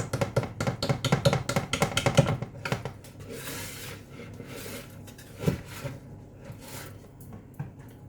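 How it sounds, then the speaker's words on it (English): A wet muffin batter is whisked by hand in a bowl, giving quick rhythmic scraping taps for a couple of seconds, then sparse softer clinks and rubs, close and fairly quiet. "Don't talk about my whisk technique, why I kept using it in the wet mix."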